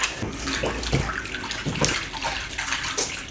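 A washing machine capsule is emptied into a basin of warm water before washing a suit jacket, with water sloshing and splashing in uneven bursts close by.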